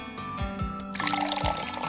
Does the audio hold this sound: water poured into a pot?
yes